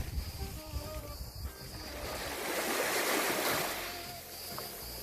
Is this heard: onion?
no